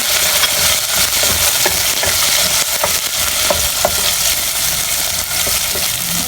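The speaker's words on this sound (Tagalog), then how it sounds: "Ibisapin muna natin yung bawang sa sibuyas." Garlic and onion sauté in a hot pan with a steady, loud, close sizzle and crackle throughout, with light scraping stirs now and then.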